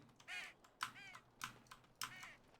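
Crows in the Dragon Age Origins video game caw in three or four short, harsh calls spaced about half a second apart, faint and fairly distant under light background clicks.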